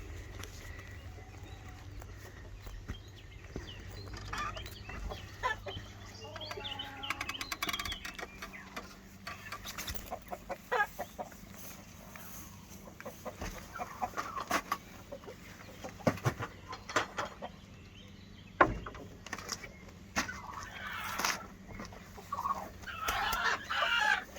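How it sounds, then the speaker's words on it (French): Hens cluck and murmur in scattered bursts in a henhouse, with an occasional louder squawk or crow, moderately near against a quiet background. "Le poulailler avec des poules qui me donnent des bons œufs."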